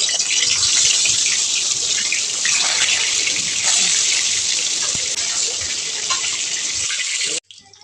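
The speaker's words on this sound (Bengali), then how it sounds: "মাছ ভাজা হয়ে গেছে, তুলে নেব।" Katla fish pieces, marinated in Kashmiri chilli powder, fry in hot oil in a kadai with a loud, steady, close sizzle that runs unbroken and then cuts off abruptly near the end.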